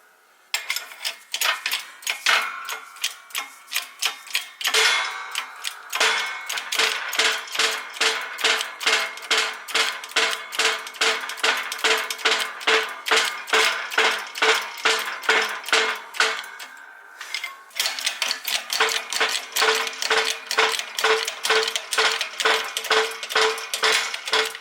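A bearing separator braced on arbor plates under a press works on the rear wheel bearing of a Lexus IS300, giving a long run of rhythmic metallic clicks and ratcheting ticks, close and steady, with one brief pause partway.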